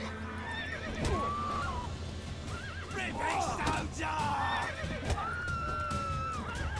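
A horse in The Witcher 3 whinnies loudly several times over a steady bed of game ambience, with a few hoof clops and scattered background voices.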